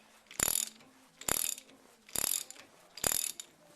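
A socket wrench ratcheting a bolt on a 1965 Dodge D100 truck, four short clicking strokes spaced evenly, close and crisp with quiet between them.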